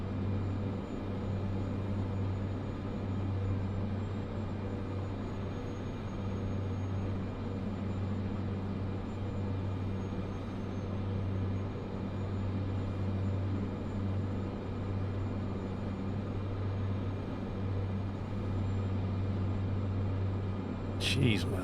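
A small aircraft engine in Microsoft Flight Simulator 2024 drones as a steady, even hum with a low rumbling core, holding constant throughout with no talk heard.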